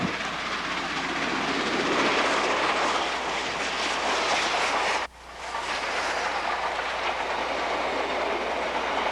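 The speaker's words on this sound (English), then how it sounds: "At Marula, the daily passenger train from Botswana departs the station as we follow it back toward Bulawayo." A 15th class Garrett steam locomotive runs on an African line through bush near Marula toward Bulawayo, a loud continuous roar with rhythmic rail clatter, briefly dipping once midway, no talk.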